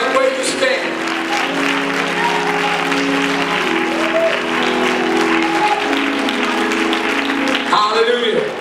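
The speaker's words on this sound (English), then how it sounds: "If you receive it, clap your hands right where you stand." Church congregation clapping hands at a convention, continuous crowd clapping under a voice and sustained tones, steady and fairly loud for several seconds.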